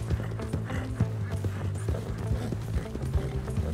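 Horse galloping in Red Dead Redemption 2, a fast, rhythmic clatter of hoofbeats close by over a steady background, with a faint voice now and then.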